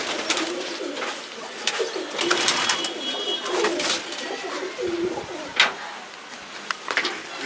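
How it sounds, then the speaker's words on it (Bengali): Young pigeons, tipplers among them, coo in low, soft repeated calls close by, with occasional flutters and brief rustles. "এইসব বাচ্চা পায়রা"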